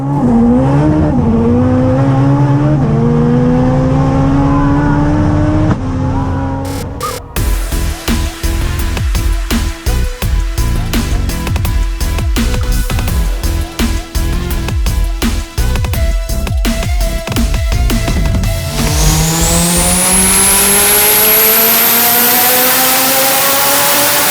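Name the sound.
1100 hp all-wheel drive Honda Integra race car engine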